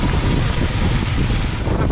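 Strong wind blasts across an open farm field during heavy rain at an eggplant harvest, a steady loud roaring rumble buffeting the microphone throughout.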